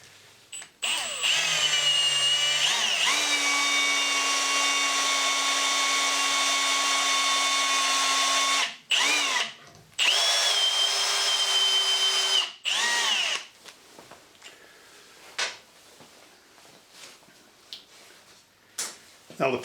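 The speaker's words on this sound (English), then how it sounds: "Now we're going to proceed to drill out the broken screw." A power drill drilling out a snapped screw in wood whirs steadily at close range for several seconds, stops, then runs again in shorter bursts before falling quiet with faint rustling.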